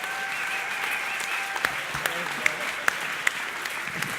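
Applause from a conference audience at a startup Q&A panel in Omaha, a steady wash of clapping running the whole time with a few sharper individual claps standing out, while a voice talks over it.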